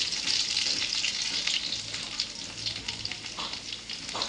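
Garlic sizzles steadily in hot oil with panch phoron and a bay leaf, a close, continuous frying crackle with small pops throughout.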